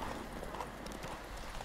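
Horse galloping in The Witcher 3 Wild Hunt, a rapid rhythmic clip-clop of hooves at moderate volume, running steadily throughout with no talk.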